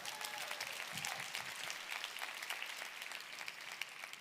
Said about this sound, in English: Yes, clap for them, that's right.